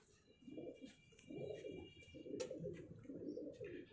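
Pigeons coo softly in repeated rolling bursts, close by and alone, with no voices present.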